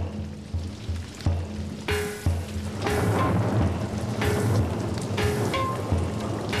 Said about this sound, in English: the rains have arrived as predicted